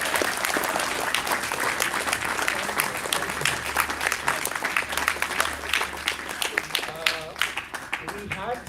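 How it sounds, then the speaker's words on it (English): An audience at a cricket academy event gives sustained applause for the coaching and administrative staff, dense steady clapping with a few cheers, under a low background hum. "give a big round of applause to the coaching"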